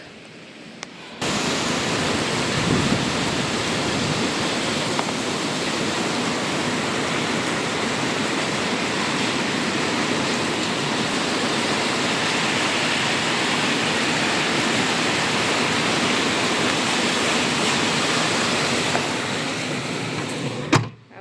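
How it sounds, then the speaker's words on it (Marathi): Heavy rain falls in a dense, steady hiss that starts abruptly, holds at an even level for most of the span, then cuts off near the end, with no voices. "आता एवढा पाऊस पडतो"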